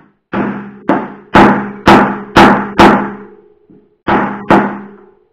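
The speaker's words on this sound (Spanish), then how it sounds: "Y esto es para meter el rodamiento dentro. Y golpeamos." A mallet hammers a bearing into a Crank Brothers Iodine 3 bicycle hub, producing a series of about eight sharp, close metallic knocks in uneven groups with brief pauses between them.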